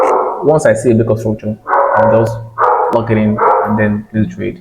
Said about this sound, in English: Sorry for the noise. We have one crazy dog here.